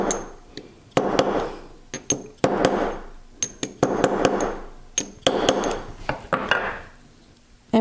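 Metal punch struck with a hammer to dome a jewelry necklace clasp, sharp bright metallic taps arriving in irregular clusters of light blows, close and clear, with soft ringing between strikes.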